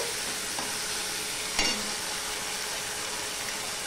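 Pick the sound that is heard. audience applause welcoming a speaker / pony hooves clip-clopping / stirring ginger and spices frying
stirring ginger and spices frying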